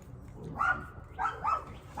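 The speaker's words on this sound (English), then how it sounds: "The dog chasing critters." A dog chasing critters outdoors lets out three barks, one near the middle and two close together toward the end, moderately loud over low background noise.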